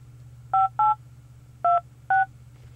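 Four short touch-tone telephone dialing beeps, clearly spaced in two pairs, sound over a steady low hum with no talking.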